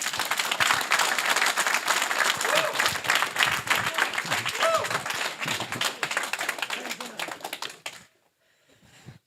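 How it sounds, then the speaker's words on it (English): Warm applause from a lecture audience welcoming a speaker to a talk on CO2 science, dense steady clapping for about eight seconds, then cutting off sharply into near silence. "A warm applause for Will Hepper."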